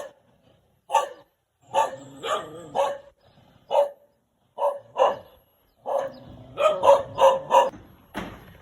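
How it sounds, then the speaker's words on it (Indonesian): In a village, a dog barks in single and paired close, sharp woofs with short quiet gaps between them, ending in a quick burst of several barks. "Ada yang menggonggong di sini,"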